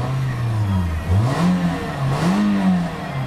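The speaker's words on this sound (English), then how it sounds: "So it revs up beautifully all the way up to the rev limiter, and it idles down smoothly." A 2009 Toyota Corolla VVT-i engine with 130,000 miles revs steadily up to the rev limiter and then settles back down to a smooth idle, loud and close with no talking.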